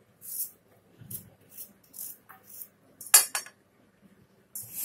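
A knife cuts peeled fresh coconut flesh into small pieces, making a series of sharp, uneven taps and clinks with brief pauses between them, close by and with no talk.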